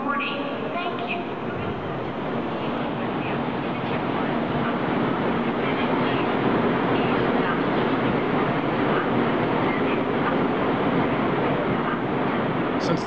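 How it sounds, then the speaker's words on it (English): A Taiwan High Speed Rail train rumbles in to the platform steadily with a dense, continuous roar and rail noise, loud and close throughout, while a voice speaks faintly beneath it. "Train number 617 bound for Zhuyin is now approaching at platform 1"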